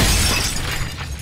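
An incendiary grenade shatters in the game CS:GO, a loud glassy break at the start that trails off into a crackling burn for about a second, with no talk.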